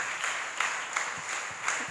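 A church congregation at a feast of the Assumption of Mary claps together, a fairly soft, continuous patter of applause with rhythmic swells, heard from a distance.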